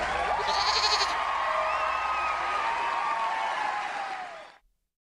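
A goat bleats repeatedly in a wavering, drawn-out cry over a busy crowd-like background, then the sound cuts off abruptly.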